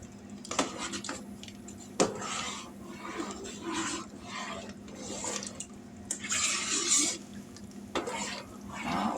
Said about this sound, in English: Gonna give this a stir.